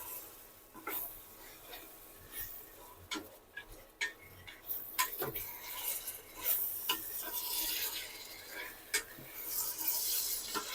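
Chicken and vegetables being sautéed for chicken vegetable khichuri, with repeated spoon scrapes and clinks against the pan over a steady sizzle.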